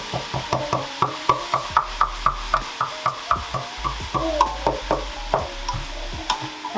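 Mince with carrots and onions being stirred and fried in a pan, a steady rhythm of close scraping strokes roughly every half second over a soft sizzle, with no talking.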